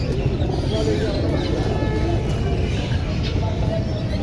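Fulsira highflying pigeons coo in a crowded pigeon shop in a market, soft low cooing mixed with scattered chirps under a constant busy background hum.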